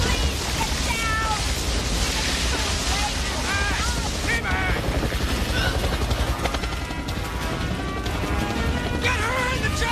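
A helicopter roars through a chaotic rescue scene in an asteroid disaster drama, its loud, continuous rotor and engine rumble filling the whole stretch beneath shouted voices and high, cat-like cries.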